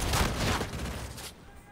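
Gunfire from an R3K rifle in Battlefield 2042, a loud close burst of rapid shots for just over a second that then cuts off into quiet.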